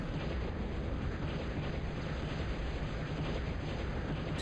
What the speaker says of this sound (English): the Skeeter missiles are hitting the water instead of hitting the Pelican